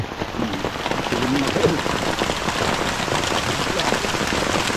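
Steady rain pours down outdoors during a wet-weather fire-stoking session, a dense continuous patter on surfaces throughout, with a voice talking briefly beneath it.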